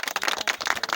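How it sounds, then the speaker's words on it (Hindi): Several people clap quickly and unevenly, a brisk patter of hand claps close by. "ताली वाले ताली बजाओ भाई की"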